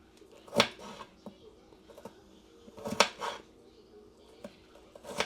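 A knife chopping potatoes into small pieces on a cutting board: a few sharp, separated chops with quieter taps between them, with some background talk.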